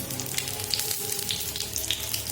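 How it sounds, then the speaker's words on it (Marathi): Eggs and potatoes fry in a little oil, giving a dense, even crackle with scattered pops throughout, close and fairly loud. "अशा प्रकारे आपण अंडे आणि बटाटे फ्राय करून घ्यायचे छोट्याशा तेलामध्ये"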